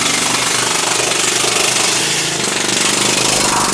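A planishing hammer pounds sheet metal in a fabrication shop, giving a loud, steady, rapid hammering that runs unbroken throughout and sounds close.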